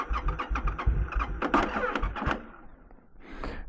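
A motorcycle engine cranks with a rapid stuttering churn, briefly catches and sputters, then dies back to near quiet before a faint hiss at the end, close up.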